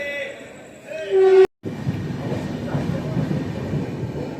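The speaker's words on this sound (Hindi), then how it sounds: "फिलहाल हमारी जो ट्रेन है दुर्ग से निकल रही है" The Gondia Barauni Express pulls out of Durg station: a short tonal blast stops abruptly, then a steady, loud rumble of the moving train carries on alone.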